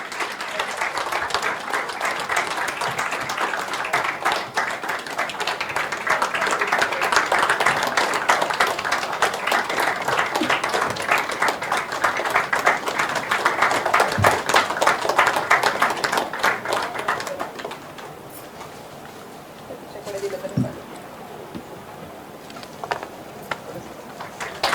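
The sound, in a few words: applause from the audience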